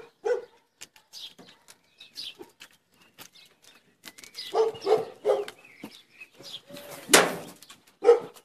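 A dog named as loyally on guard in a garden before a honey harvest gives a few sharp barks, spaced across the stretch amid quiet background ambience and faint bird chirps.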